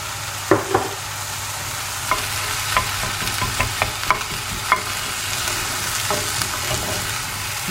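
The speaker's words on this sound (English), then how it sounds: "I'm just going to cook that down now until the onions start to soften" One sliced onion frying and stirred in a pan: a constant sizzle under repeated sharp scrapes and taps of the utensil against the pan, close and clear.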